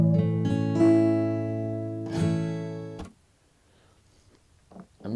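A strummed acoustic guitar chord rings out with a bright attack, sustains and fades over about three seconds, then is damped to near silence; a softer brush of the strings is heard near the start, alone, with no voices.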